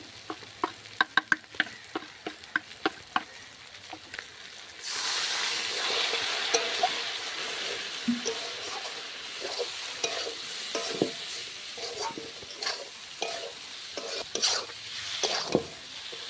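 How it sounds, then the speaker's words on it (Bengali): Spices for a spicy shankar fish curry are worked in a pan with a little water: clinks and scrapes of stirring give way to a loud, close, bubbling sizzle with repeated utensil knocks. "সব মশলা দিয়ে আমি ভালো করে কষিয়ে নিলাম অল্প জল দিয়ে"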